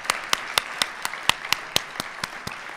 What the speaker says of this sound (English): Let's give one more round of applause for all our great speakers.